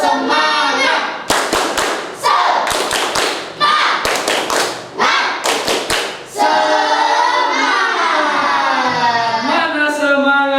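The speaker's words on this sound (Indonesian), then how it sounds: "kita lakukan tepuk semangat dalam hitungan 1, 2, dan 3" A sixth-grade class performs the rhythmic tepuk semangat spirit clap, sharp grouped claps with thumps in bursts, mixed with children's chanting voices that carry on alone after the clapping stops.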